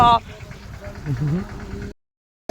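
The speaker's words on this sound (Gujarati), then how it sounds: "ટ્રેક્ટર આવે છે" A tractor engine rumbles low and steady on a road near Jamnagar, partly under people talking, then cuts to a brief silence before the sound returns.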